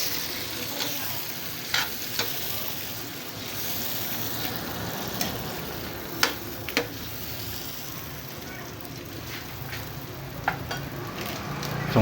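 Shrimp frying in garlic butter with soaked Sprite poured in, a steady loud sizzle with occasional stirring clinks and scrapes throughout, close up.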